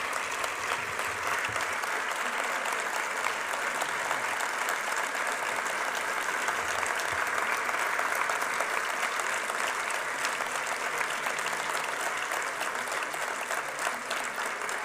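A dense, even wash of applause from a large crowd at a peace dialogue event, many hands clapping continuously at a steady level from start to finish without talk over it.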